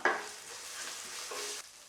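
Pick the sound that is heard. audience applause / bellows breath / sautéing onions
sautéing onions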